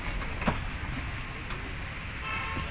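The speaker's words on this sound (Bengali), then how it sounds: "এই দেখো টয় ট্রেন যাচ্ছে" A toy train runs through an eco park, giving a steady low rumble and faint clatter at moderate distance under hissy outdoor background noise.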